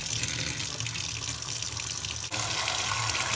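Water runs steadily from a Sloan kitchen faucet fitted with a mixing valve, a continuous close hiss of flow into the sink with one brief dip partway through and no talking.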